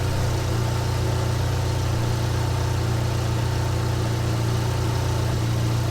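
A Dodge SRT-4 engine idles smoothly and steadily after an alternator replacement, a loud, close, continuous low hum with a faint electrical whine and no voices.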